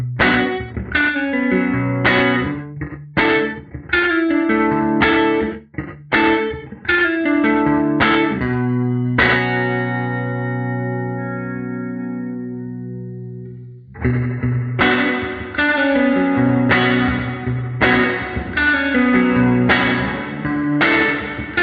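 An electric guitar runs through an EarthQuaker Ledges reverb pedal set to a medium-large room mode, playing strummed chords and picked notes whose tails ring out, with one long sustained chord decaying before playing resumes.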